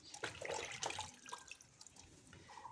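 Tap water runs in a steady splashing stream as red amaranth leaves (lal shak) are rinsed one by one at a kitchen sink, with small drips and clatters, close and fairly quiet, no talking.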